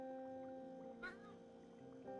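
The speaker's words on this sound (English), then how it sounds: "That sound the cat made" A cat in the Project Zomboid video game gives one short, quiet meow partway through, heard over a faint steady tonal hum of game ambience.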